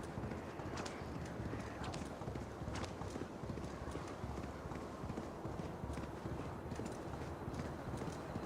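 A horse gallops in Assassin's Creed Valhalla, its hoofbeats drumming in a fast, steady rhythm throughout, fairly quiet and blended with rushing wind and outdoor ambience.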